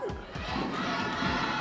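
A large esports arena crowd at a Mobile Legends pro league match cheers and shouts continuously for the winning team Twisted Minds, a dense, sustained roar with excited voices rising within it.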